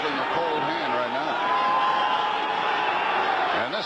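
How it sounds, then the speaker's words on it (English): A football stadium crowd at a Giants–Redskins game roars and whoops in a broad, sustained wash of cheering, with a commentator talking over it the whole time. "And this crowd can really whoop it up."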